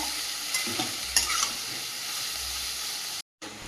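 Chopped capsicum and vegetables frying in a pan, a continuous close sizzle with occasional stirring scrapes, cut by a brief moment of silence near the end.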